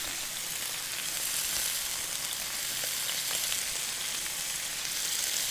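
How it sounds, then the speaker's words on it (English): Strips of beef sear in a hot pan with a steady, close crackling sizzle that holds evenly throughout, with no talking. "We want to sear it on both sides"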